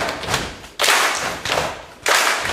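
Group hand claps at a church footwork class, a sharp clap followed by softer counted beats in a steady three-count pattern, fairly close and loud with no talking.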